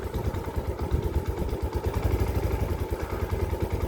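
A motorcycle engine idles close by after starting, with a steady rapid low chugging and mechanical clatter, loud and alone without speech.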